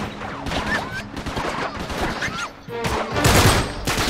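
Rapid burst-fire gunshots in the video game Uncharted 3, loud crackling volleys repeating over several seconds amid chaotic combat noise.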